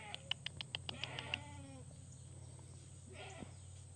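A goat lets out a rapid, quavering bleat of several pulses, fairly faint against a low steady hum, followed by a brief softer call, on a farm.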